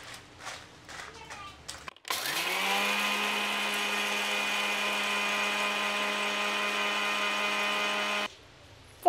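Electric spice grinder whirring steadily for about six seconds as roasted coriander and cumin seeds are ground into powder, loud and close, with brief speech and kitchen clatter before it starts.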